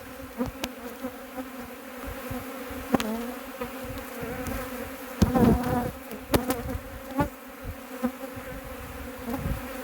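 Honeybees from a disturbed colony that had become bad-tempered drone and buzz steadily around an opened hive, with sharper close passes of individual bees flying near the microphone.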